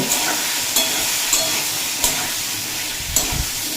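Raw papaya frying with salt and turmeric in hot oil gives a loud, steady sizzle up close, punctuated by a few spatula knocks against the pan at irregular intervals.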